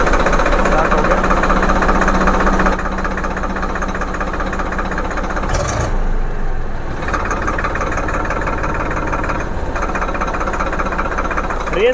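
A tractor diesel engine runs steadily right after starting, a loud continuous knocking drone with slight shifts in pitch; voices talk over it now and then.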